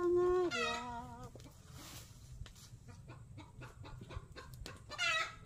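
A hen clucks loudly after laying an egg, with a drawn-out squawk at the start, a series of short scattered clucks, and another loud squawk near the end.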